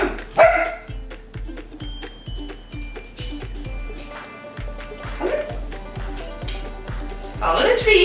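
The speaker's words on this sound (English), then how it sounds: "No, no barking." A dog being taught to jump through a hoop barks and yips several times in short bursts, with whimpers between, while a person speaks over it nearby.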